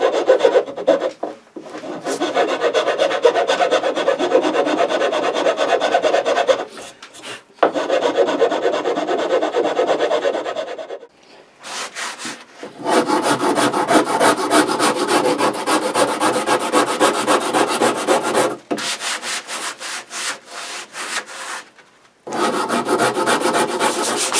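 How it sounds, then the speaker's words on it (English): Continuous scraping and rasping of abrasive on a wooden Telecaster-style guitar neck, long strokes repeated with brief pauses between passes, close and loud with no talking. "we still have a little bit more sanding to do on that just to get it completely smooth"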